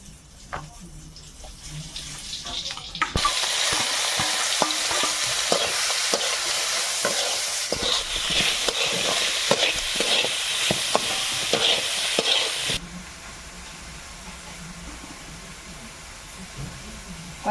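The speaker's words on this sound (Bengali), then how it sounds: "কড়াইয়ে এখন তেল দিলাম দিয়ে এবারে কাঁকড়া আর চিংড়িটা ভাজবো" Loud steady sizzling of crab and prawns frying in hot oil in a wok, starting abruptly after a quiet moment and cutting off near the end, with scattered clatters.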